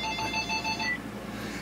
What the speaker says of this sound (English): the phone doesn't stop ringing